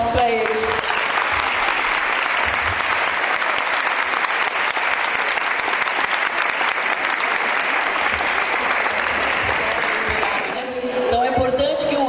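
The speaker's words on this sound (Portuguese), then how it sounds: "Eu quero uma salva de palmas para eles." An audience at an inclusive education forum in Carapicuíba breaks into sustained applause, a dense, even wash of many hands clapping for about eleven seconds. Near the end it tapers slightly before a brief swell.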